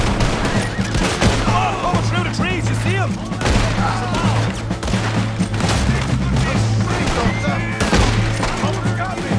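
Gunfire during a train-robbery shootout in Red Dead Redemption 2, with repeated shots and bursts crackling steadily throughout under constant talk and game noise.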